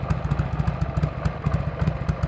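A motorcycle engine runs after a fresh oil change, idling close by with a fast, even, loping exhaust pulse and mechanical clatter, loud and steady with no talk.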